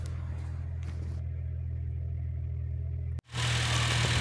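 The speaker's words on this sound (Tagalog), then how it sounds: "Ito ang engine sound pag naka-idle, cold start." Honda Brio engine idling on a cold start, a steady low rumble that holds evenly throughout, with a brief dropout near the end before the idle returns slightly louder and harsher.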